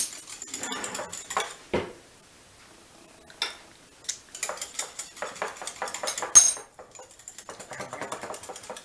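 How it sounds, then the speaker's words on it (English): A spoon is pulled from a kitchen cutlery drawer, making sharp metallic clinks and rattles against other utensils and dishes in short separate bursts with quiet gaps between them. "Let me get another spoon."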